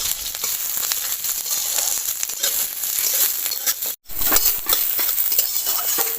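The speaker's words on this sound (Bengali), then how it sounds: "আর দিয়ে দেব পেঁয়াজ কুচি, আদা আর রসুন। এই সব কিছু আমি হালকা করে ভেজে নেব।" Whole spices (cardamom, cinnamon, cloves) with chopped onion, ginger and garlic lightly frying in a pan for a spicy magur fish and potato curry, giving a steady close sizzle throughout with one brief drop to silence near the end.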